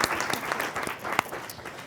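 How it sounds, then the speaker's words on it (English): Steady applause from a crowd, many hands clapping briskly for a couple of seconds at moderate loudness. "I think we should give Marcy a round of applause for the network."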